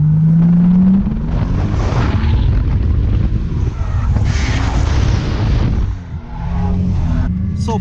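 A crashed-and-rebuilt Nissan 240SX runs on a wet track, its engine a loud, continuous rumbling roar that swells and dips over several seconds with no voices.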